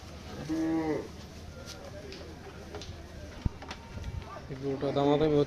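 Cows at the Hazratpur cattle market bellowing two loud, long moos, one at the start and one at the end, with quieter crowd noise and murmured talk in between.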